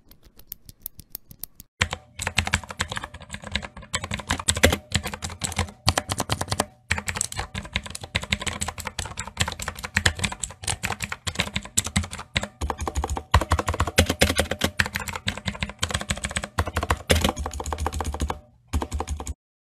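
Lubricated mechanical keyboard switches being typed on continuously, a dense run of crisp, close clicks and clacks with brief pauses, loud and alone with no talking.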